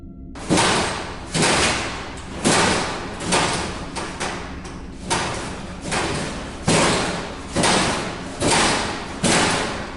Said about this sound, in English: There is no explanation for the lockers banging themselves